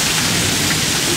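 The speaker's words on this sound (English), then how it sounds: "Hailing right now." Dense, steady patter of hail falling during a Florida summer storm, a continuous hiss of many small impacts close by with no pauses.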